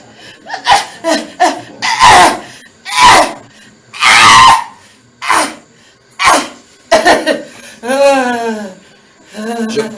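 At a religious deliverance service, worshippers let out loud, close cries and screams in repeated bursts, with short pauses between them and a long wavering wail near the end.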